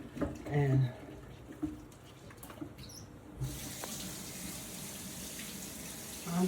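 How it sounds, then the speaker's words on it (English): Tap water runs as hands are washed at a kitchen sink while making chicken and dumplings, a steady broadband hiss starting partway through and continuing to the end, with a few brief clunks and faint background sounds before it. "Let me wash my hands off."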